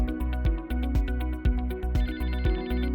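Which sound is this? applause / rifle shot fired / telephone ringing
telephone ringing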